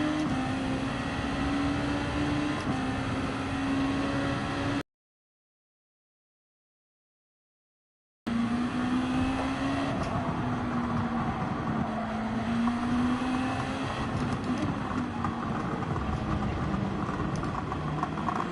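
Car engine and exhaust drone in a Gran Turismo 7 race, a steady humming whine that rises and falls with throttle, broken by a few seconds of total silence before the engine noise resumes at the same level.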